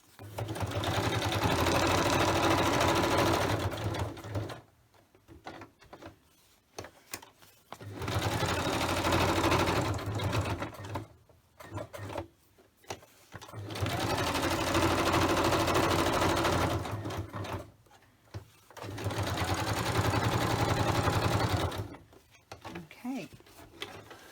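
A sewing machine straight-stitches around a picture on a Christmas journal insert, running in four loud close bursts of several seconds each, separated by quiet pauses.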